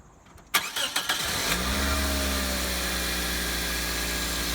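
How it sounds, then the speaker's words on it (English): A Pontiac Vibe / Toyota Matrix engine, freshly fitted with new coil packs and spark plugs, cranks with a few quick bursts, catches, and settles into a smooth, steady idle close by. "Engine seems to be running perfectly fine."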